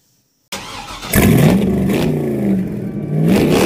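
A car engine cranks and catches after a moment of silence, then settles into a loud, throaty rev that rises and dips for a few seconds.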